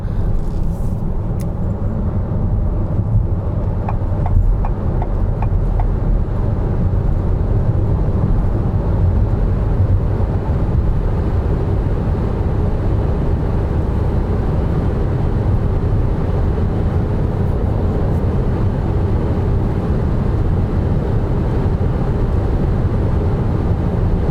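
Volkswagen e-Caravelle electric van cruising at high speed on the Autobahn, giving a loud, continuous road and wind roar with steady rumble inside the cabin throughout.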